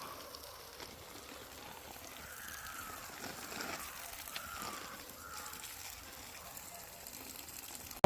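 Water runs from a garden hose pipe onto kadali banana plants outdoors, a faint, continuous soft gushing and trickling with gentle swells.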